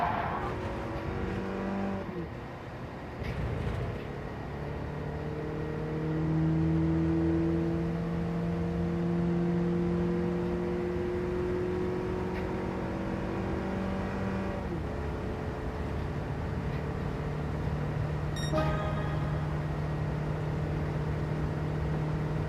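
Race car engine held at full throttle in Gran Turismo 7, a loud sustained droning roar whose pitch climbs and shifts through gear changes, close and continuous with no talk over it.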